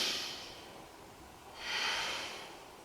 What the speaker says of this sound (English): Let's take a nice deep breath in here.